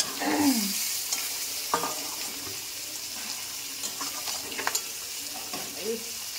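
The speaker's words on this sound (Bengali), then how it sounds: "বাকি মাছগুলো দিয়ে দিলাম। ভেটকি মাছ ভাজতে বেশি টাইম লাগে না" Steady hissing sizzle of bhetki fish frying in hot oil, with occasional clinks and scraping stirs, close by and continuous.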